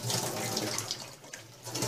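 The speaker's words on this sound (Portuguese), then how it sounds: "Agora eu vou colocar aqui um pouquinho de água" Water runs from a tap into a cast iron pan, a continuous hissing, splashing stream heard close up and fairly quiet, with no one speaking.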